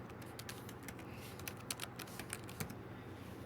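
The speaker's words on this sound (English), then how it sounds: "I'll type it." Keys on a computer keyboard tapped in an uneven, fairly quick run of soft clicks with a few sharper strokes, close by over a low steady background hum.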